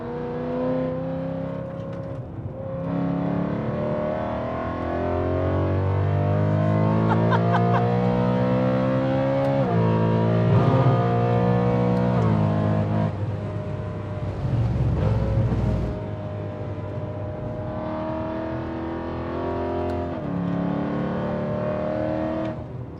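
A BMW E92 M3 with its engine on stock brakes, driven hard on the Nürburgring, snarls loud and close from inside the cabin, with repeated sharp downshift blips and rising revs over a steady drone.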